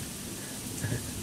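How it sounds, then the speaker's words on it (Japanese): Heavy downpour in a video game, a steady dense hiss of rain like a waterfall, fairly quiet and continuous, with a brief low rumble near the end. "キャー、何この雨、滝みたい。"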